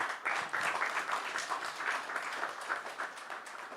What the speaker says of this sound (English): please join me in another round of applause for Mr. Mbalula